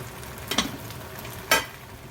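Pork neck duruchigi with zucchini, shiitake mushrooms, hot peppers and onion frying in a pan, giving soft sizzling with two brief stirring scrapes.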